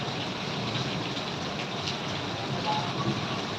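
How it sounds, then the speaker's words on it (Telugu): Heavy downpour, the first big rain of the year, a dense steady hiss of falling water with no breaks, loud and close throughout. "మనకి ఇయర్లో ఇదే ఫస్ట్ పెద్ద వర్షం నాకు తెలిసి."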